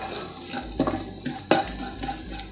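Garlic and whole spices roast in about a tablespoon of oil, a soft sizzle broken by several sharp metal spoon scrapes and clinks against the pan, with no talk.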